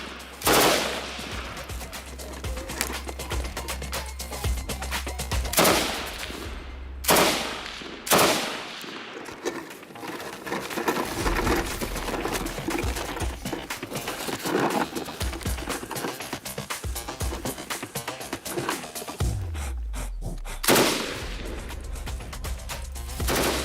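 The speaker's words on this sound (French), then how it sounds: "C'est une mitrailleuse." Machine gun fire at the Ukrainian front, loud bursts and dense rattling volleys of automatic gunfire, some long sustained strings and sharp separate shots, up close and harsh.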